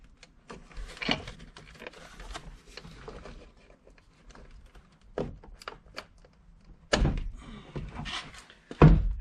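A 2006 Dodge Ram 1500 door panel is pried off and set aside, making scattered plastic clicks and handling noise with several sharp, close thunks and knocks. The loudest come near the end.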